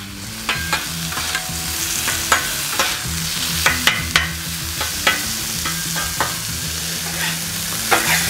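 Onions sizzling on a Blackstone griddle for a Philly soft pretzel cheesesteak, a loud steady frying hiss broken by regular scraping clacks of a spatula stirring and turning, no voices.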